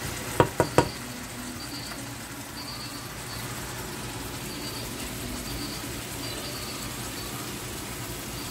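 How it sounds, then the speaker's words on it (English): Cooked, cooled plantains mashed with a meat masher make a soft, wet squishing and stirring texture. Three quick sharp taps open it before the steady close mashing. "Using my meat masher."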